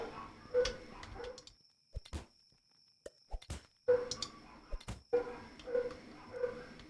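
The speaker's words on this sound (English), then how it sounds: "Sorry if you can hear my dogs barking." Household dogs bark in the background, set off by a doorbell, as a series of faint, sharp, scattered yelps under quiet game sounds.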